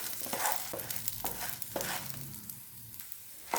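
Radish and onion sautéing together in a pan for a radish chutney, with a soft steady sizzle broken by several sharp scrapes and clacks of a spoon stirring against the pan.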